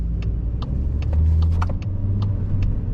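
A car engine runs steadily while driving a driving-test practice route around Fearnville in Leeds, a continuous low rumble with a slight rise in pitch midway as it speeds up, accompanied by faint clicking ticks.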